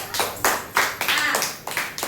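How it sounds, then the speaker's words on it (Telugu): A few sharp hand claps spaced about half a second apart, close and moderately loud, in a room with a child's number-joining activity going on. "క్లాప్ పట్టండి"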